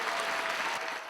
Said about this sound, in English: Okay, big round of applause.